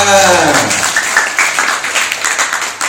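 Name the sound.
audience clapping hands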